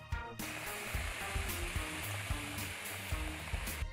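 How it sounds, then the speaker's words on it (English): Shrimp sautéing in a hot pan, a continuous crackling sizzle with small pops and scrapes throughout, close and steady, no voices. "I'm gonna start adding my shrimp, and I'm gonna just saute that for about 1 to 2 minutes"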